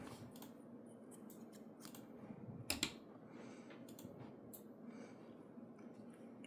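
Scissors snip through crochet yarn in two quick, close cuts, a sharp double click standing out over a faint, hissy room background.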